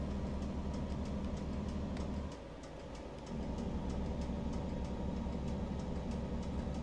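Mack truck engine in American Truck Simulator, a steady loud diesel drone with a brief dip in level midway before the rumble returns at full strength, no voices.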